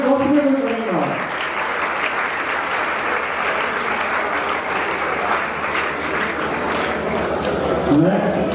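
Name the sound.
audience clapping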